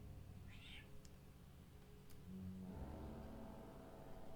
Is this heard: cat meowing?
yes